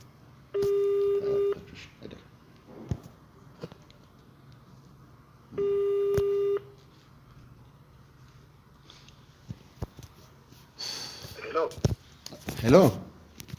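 Two long electronic ringback tones sound while a phone call is being placed, each about a second long and separated by a few seconds of quiet, followed by faint rustling and a brief voice.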